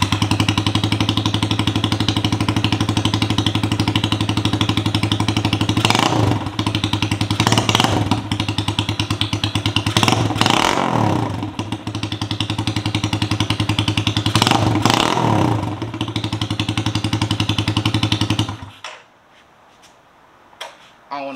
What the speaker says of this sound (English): give you guys a quick startup without a muffler